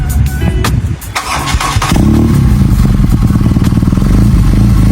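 A BMW R nineT Scrambler 1200cc boxer-twin motorcycle with an aftermarket exhaust starts up after some clatter, then settles into a loud, close, steady idle with a throbbing pulse.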